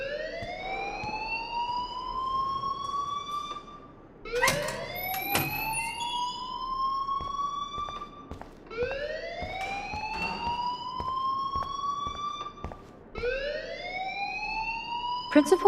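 Repeating siren-like alarm sounds through a school in the video game Life Is Strange, each rising wail lasting about four seconds and recurring four times, loud and steady, with faint background noise between cycles.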